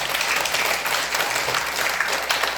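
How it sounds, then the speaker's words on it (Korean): Congregation applauding in a church during a morning service, a dense steady wash of clapping from many hands held at an even level for the whole stretch. "주님 박수를 보내고"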